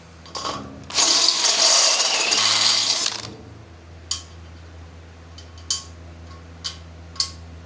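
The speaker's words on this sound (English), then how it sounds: "I'm going to drill it out to put these guys in" A power drill whines steadily for a couple of seconds, drilling out bolts on a Model A roadster pickup's frame rails, then stops, followed by scattered metallic clinks and taps of small parts being handled nearby.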